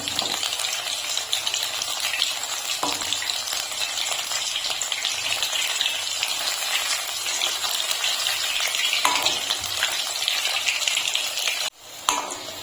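Onion-stalk flower pakoras fry in hot oil with a steady, close sizzle throughout, and a short clatter of utensils comes near the end as they are lifted out.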